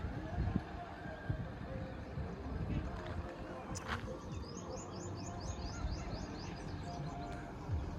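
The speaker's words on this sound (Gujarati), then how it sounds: "વ્યૂ બહુ સારું છે અને પક્ષીનો અવાજ પણ આવી રહ્યો છે, તો તમે ધ્યાનથી સાંભળો." Small birds chirp and trill outdoors at the Navlakha temple at Ghumli, with quick bright calls from a middle distance, louder in the second half, over a faint background of wind and movement.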